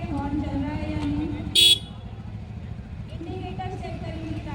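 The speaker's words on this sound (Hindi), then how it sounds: "हॉर्न चेक करेंगे हॉर्न चल रहा है या नहीं।" A vehicle's horn is tested during a driving license inspection camp at a police post on a bypass road, giving a single short toot over a low idling engine and background voices.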